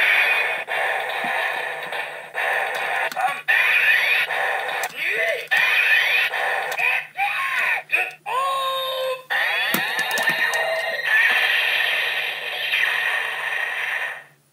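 A Rocket Henkei DX Plezu-Oh toy from Zyuden Sentai Kyoryuger plays its attack-button effects: a loud run of electronic bleeps, rising and falling sweeps and voice-like cries in quick bursts, with short gaps between them.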